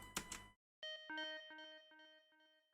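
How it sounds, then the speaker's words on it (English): Soft synth notes from an electronic music composition ring out with an echoey, delayed tail, pulsing rhythmically as a sidechain effect ducks them, after a brief burst of brighter sound and a short gap of silence. "These little echoey bits that sound way in the background."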